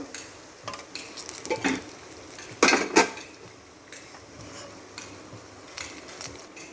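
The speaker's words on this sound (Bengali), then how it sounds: "একটা একটা করে সবগুলোকে এইভাবে উল্টে পাল্টে লাল করে ভেজে তুলে নিচ্ছি" Ripe mango fritters frying in a wok, soft sizzling under repeated metal clinks and scrapes as a utensil turns them, with louder knocks partway through.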